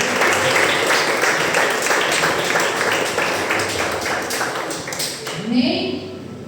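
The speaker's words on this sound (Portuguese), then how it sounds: "Aplauda o Senhor." Members of a Christian worship congregation clap loudly and continuously in praise, a dense wash of applause across the clip, with a voice briefly breaking in near the end.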